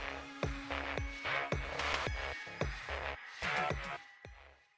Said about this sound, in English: we chose to add a transition layer that sounds like this